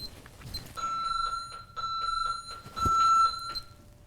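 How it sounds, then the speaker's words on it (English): A steady electronic emergency call buzzer beeps in repeated bursts during an airway-clearing procedure, fairly faint and sounding from across a room, with no talking. "So by hitting my emergency buzzer,"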